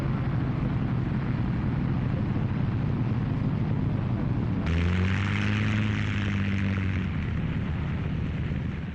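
WWII bombers take off with a loud, continuous engine roar that shifts midway into a deep, throbbing multi-engine propeller drone.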